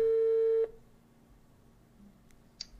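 A steady electronic telephone tone, heard after a call cuts off, sounds for about half a second and then stops abruptly, leaving quiet room noise and a faint click.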